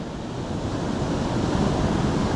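Ocean surf breaks and washes continuously onto a beach during a fall morning of surf fishing, a loud, steady roar of waves with some wind noise and no voices.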